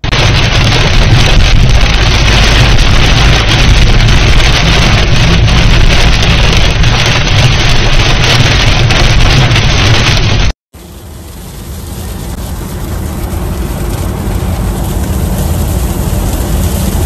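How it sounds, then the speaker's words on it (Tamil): Heavy rain falling in Kuwait, a loud, steady wash of downpour with wind buffeting the microphone, briefly cutting out near the end before the dense rain noise resumes. "நுவைசி போன்ற பல பகுதிகளையும் எல்லை பகுதிகளையும் கனமழை பெய்ததாக சில தகவல்கள் வந்திருந்துச்சு"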